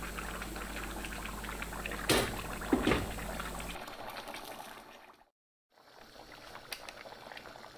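Water splashes and gurgles steadily into a pot over frying carrots for plov, a close, hissing pour with a few clinks, followed by a brief silence and quieter kitchen noise.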